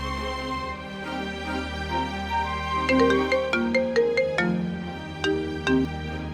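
A phone rings unanswered with a melodic electronic ringtone. Clear, bright notes rise and fall in short phrases over a steady low hum.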